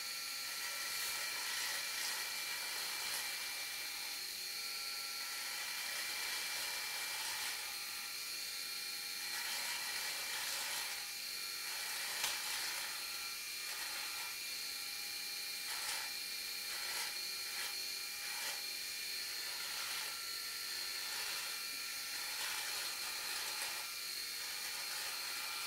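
A Phisco fabric shaver cutting pilling from cloth, making a steady high-pitched motor whine with a continuous buzzing hum that runs throughout without speech, its tone shifting slightly as the blades bite.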